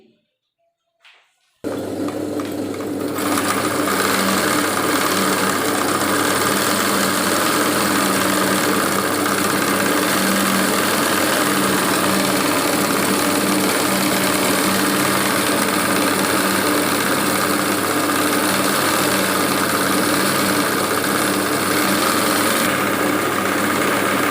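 A sewing machine stitches a baby umbrella frock, a loud, steady mechanical whir that starts abruptly after a short silence and then runs continuously, close by with no talking.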